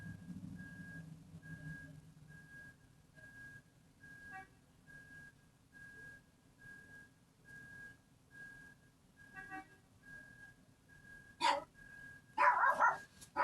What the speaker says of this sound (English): why there's so much noise outside, but the dogs are riled up